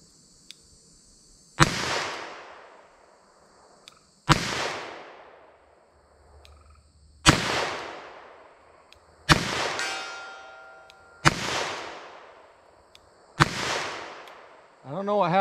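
Handgun rounds fired into ballistic gel, including 9mm, .38 Special and .40 caliber, ring out as six sharp, loud shots spaced a couple of seconds apart outdoors, each trailing a brief echo.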